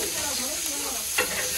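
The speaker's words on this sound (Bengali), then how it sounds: "এইখানে পনিরটা একটু ভেজে নিচ্ছি তাওয়ার মধ্যে, একটু লাল লাল করে নেব।" Paneer frying on a tawa gives a steady, close hiss and sizzle throughout, with a brief scrape or stir partway through.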